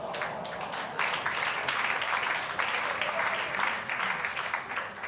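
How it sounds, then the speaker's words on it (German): Audience applause at a German satire and comedy stage show, a thick, sustained wash of clapping that swells and holds throughout with a few louder surges. "Applaus"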